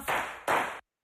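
Two hand claps meant to trigger a Clapper sound-activated switch, each a broad noisy burst of roughly a third of a second, close and moderately loud, the second clap following quickly before everything cuts to silence.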